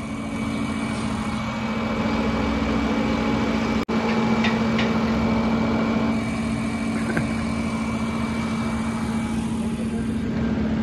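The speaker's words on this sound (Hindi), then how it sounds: "ये देखें जी ये जनरेटर हमारा जो है ना ये टेस्टिंग हो रही है" A 600 cc engine generator rated around 7 kW runs during testing, a steady close droning hum with a constant low pitch and no talk, broken only by one brief click near the start.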